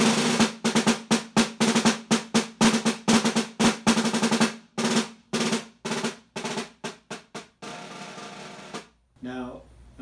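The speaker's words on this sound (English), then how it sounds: "So first we'll talk about the snare drum." A snare drum rings out in a run of sharp, evenly paced hits that slow and spread apart toward the end, played close and crisp with a short resonant tail after the last strike.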